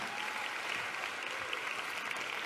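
A church congregation applauds at a Sunday service, a steady wash of many hands clapping together throughout with no break or spoken voices.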